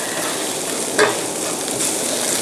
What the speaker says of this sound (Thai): ผัดนะคะให้ จนกว่าจะสุกแล้วก็ หอม